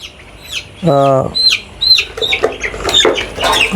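Colour bird chickens on a poultry farm let out a loud squawking cackle and then scattered clucks and chirps, near and busy, with some background noise.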